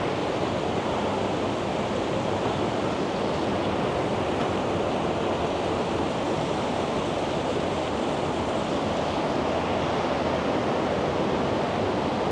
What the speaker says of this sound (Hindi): ये ऊपर से झरना है जो नीचे की तरफ आता हुआ नज़र आ रहा है